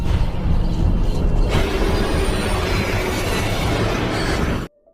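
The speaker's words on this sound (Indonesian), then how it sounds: "Lalu tidak lama kemudian terdengar suara kereta datang." A train in a horror film rumbles in as a loud, dense roar that swells sharply after the first second and a half, then cuts abruptly to silence just before the end.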